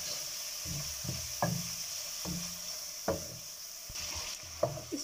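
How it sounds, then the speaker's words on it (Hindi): Onions and spices frying in a pan with a little water added, a steady soft sizzle with intermittent scraping stirs and light knocks of a spoon against the pan, close and quiet, with no voices. "थोड़ा पानी शामिल करके इसको भून लेंगे।"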